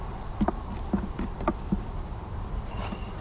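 Bees around hives in a nuc yard buzz steadily at moderate loudness, with several short, brighter buzzes as single bees fly close, heard alone with no talking.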